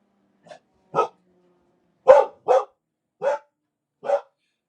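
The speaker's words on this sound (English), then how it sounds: "Here we go with the dogs already." A dog barks six times in separate, evenly spaced single woofs, close and fairly loud against silence, with no other sound between barks.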